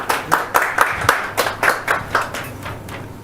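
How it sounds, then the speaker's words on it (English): An audience claps for the candidates at a 2023 leadership race Q&A event, a fairly close, steady round of applause with distinct claps that gradually softens toward the end. "let's have a round of applause for our candidates and for Choto"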